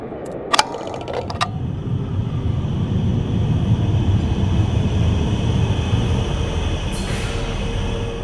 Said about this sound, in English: Your train arrives at 2:45.